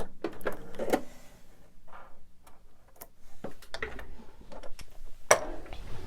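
A sewing machine stitches fabric for a candy dish pillow in short bursts of quiet ticking and clicking, separated by pauses and a few sharper taps, with no speech.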